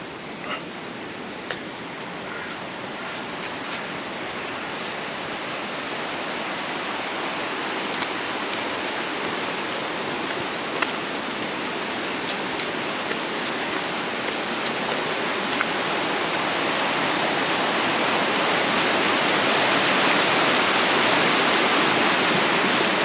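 Steady roar of rushing falling water at Ingleton Waterfalls in the Yorkshire Dales, broadband and continuous, growing slightly louder over time with no voices.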